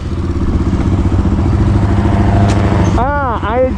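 A TEKKEN 250 EFI motorcycle engine runs close by with a rhythmic, throbbing exhaust pulse, then revs up and down near the end while people talk over it.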